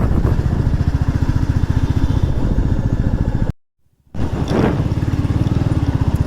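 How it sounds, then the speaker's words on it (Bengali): Motorcycles pass along a road at night near a fair: a steady, loud, close engine drone with rapid pulsing that cuts out briefly, then returns as another bike swells past. "এক গাড়ি বাইক যাচ্ছে।"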